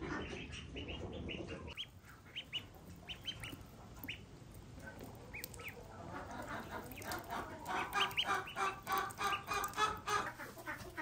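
Barred Rock chickens, black and white spotted birds kept in a mucky pen, cluck and squawk in overlapping bursts. The calls are close and build to a busier chorus toward the end, with no talking.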